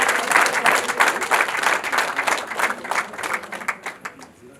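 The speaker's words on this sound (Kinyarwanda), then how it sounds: "amashyi benshi cyane." Wedding guests applaud at a ceremony, a dense burst of many hands that gradually thins into scattered individual claps, with voices faintly audible underneath.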